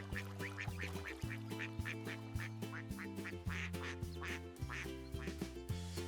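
Ducks on a river quack in a quick repeated series of short calls over a bed of steady musical tones, moderately loud and fairly close.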